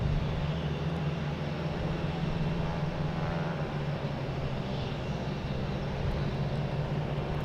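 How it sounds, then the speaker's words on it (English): A Delta Boeing 757 arriving from Atlanta lands at Boston Logan, its engines a steady, broad, loud roar that holds evenly throughout with no voices. "All right, next coming in, we have a Delta coming from Atlanta, 757."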